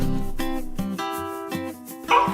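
Chow Chow dog barking and yipping in short bursts, loud and close, with brief whimpering tones between the barks.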